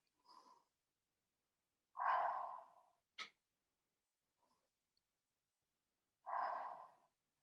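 Slow, calm breaths during a seated self-massage exercise for headache relief, three soft airy exhalations spaced a few seconds apart with a brief click between them, close and quiet.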